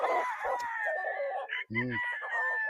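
A Kelso cross gamecock rooster crows nearby on a game farm, a loud drawn-out call ringing over a steady background of other birds, with a brief voice in the middle.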